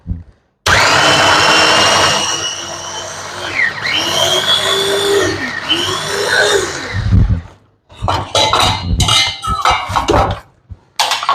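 An electric chopper whirs loudly in a kitchen as it chops vegetables, running in a long steady burst, then pausing and restarting in short pulses, with the blade rattling against the bowl.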